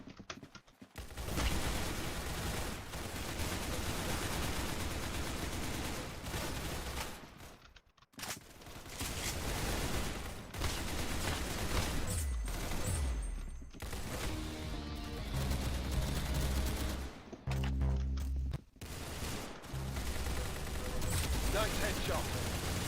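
Near-continuous gunfire in a shooter video game, dense volleys and rattling shots with short pauses, loud and busy, with a voice talking over it at times.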